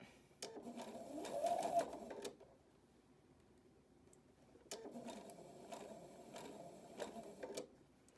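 A sewing machine stitches fabric for a cap in two fast, rattling bursts, with a quiet pause between them.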